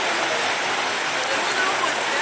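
Treated effluent from a wastewater treatment plant pours steadily into a channel leading to a river, a loud continuous rushing like a small waterfall with no break.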